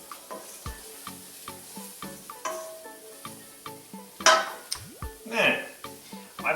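A curry spice mixture being stirred and roasted in a pan over lowered heat for a very spicy shrimp curry, soft sizzling with repeated spoon scrapes and knocks, and a louder scraping flurry near the end.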